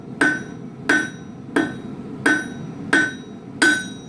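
Six evenly spaced blacksmith hammer blows ring out on metal, each a sharp clang with a short ringing tail, in a steady unhurried rhythm, as a taper is forged and straightened.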